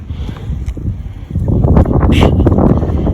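Wind buffets the microphone while someone rides a bike at a riverside park, a rough low rumble that gets louder and gustier partway through.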